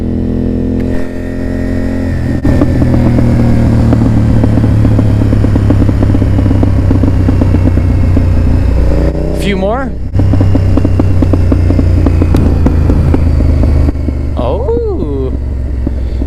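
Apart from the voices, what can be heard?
motorcycle exhaust pops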